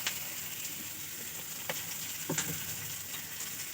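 Onions sizzle and fry in oil, with a steady crackle and a few sharp scraping clicks as they are stirred, close by and without voices.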